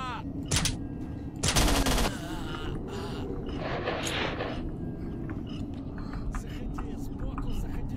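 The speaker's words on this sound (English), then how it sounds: "Silenced gun." A silenced gun firing in STALKER: Shadow of Chernobyl, a few sharp muffled shots and a brief burst over a constant rumbling game ambience, with someone talking.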